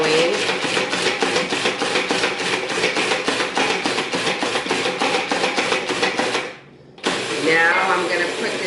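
A food processor pulses a dough of flour, water, cilantro and jalapeño with a loud, rapid chopping whir that runs steadily, stops briefly, then starts again close up.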